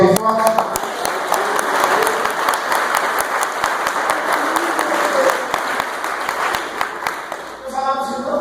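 A church congregation claps loudly and steadily for several seconds, dense sharp hand claps filling the space, with voices calling out over it and a speaker resuming near the end.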